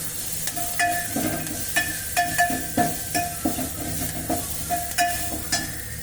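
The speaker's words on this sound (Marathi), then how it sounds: "बारीक करून कांदा चांगला भाजून घ्यायचा" Chopped onion frying in oil for masala dal, with a steady sizzle broken by repeated scraping stirs and light clinks of a spoon against the pan. No voices.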